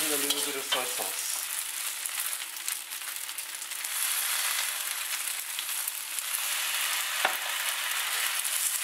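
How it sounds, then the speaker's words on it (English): Flat rice noodles stir-fry in a hot wok for chao hor fun with a drizzle of soy sauce, giving a steady, loud sizzle that runs the whole time, with a sharp clatter of tossing near the start and another toward the end. "And continue frying."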